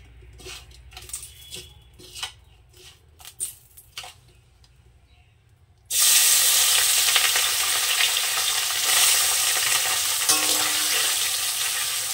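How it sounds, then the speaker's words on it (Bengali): Maya fish fries in oil in a wok for a mustard-poppy curry. After several seconds of clinks and light handling, a loud, dense sizzle bursts in close by and holds steady to the end, with no talk. "আমি সর্বপ্রথম মাছটা ভেজে নেব। মাছ ভাজার জন্য তেল দিয়ে দিলাম"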